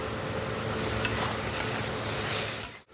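Chopped onion, carrot, beans, capsicum and slit green chillies frying in a pan for egg chicken fried rice, giving a steady, close sizzle with a few stirring clinks, then cutting off abruptly at the end.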